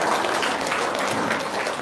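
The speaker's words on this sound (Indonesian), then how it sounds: "Sip, tepuk tangan dong." Short burst of dense clapping from a group, steady and fairly loud for under two seconds.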